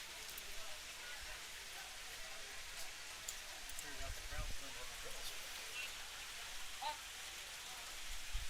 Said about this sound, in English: Rain falling here at First Bank Park.